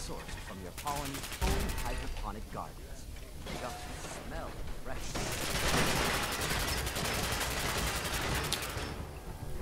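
Gunfire from a weapon in Fallout 4, with dense bursts of shots and a rapid rattling fusillade building loud through the second half, mixed with game effects and a voice talking over it.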